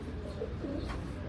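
Domestic pigeons at a home loft coo in low, throaty, overlapping murmurs, close and steady throughout with no talk.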